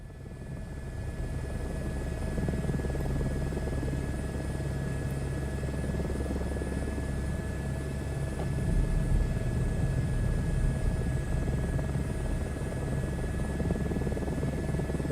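Steady, close rotor and turbine drone of a helicopter cruising in Microsoft Flight Simulator 2024, continuous and even with a slight swell late on, no talking.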